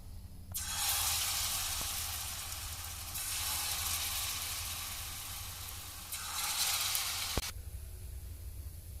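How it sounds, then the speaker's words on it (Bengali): Gokul pitha frying in hot oil, a steady broadband sizzle that swells and eases in long waves with a couple of faint clicks, close and alone with no voices. "ঠিক একইভাবে আমরা বাকিগুলো ভেজে নিচ্ছি"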